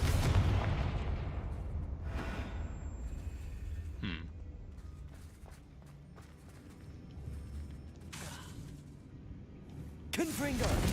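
Booming Confringo fire-spell explosions in Hogwarts Legacy thud and rumble over a battle scene, with a few sharper blasts and whooshes spread across the clip.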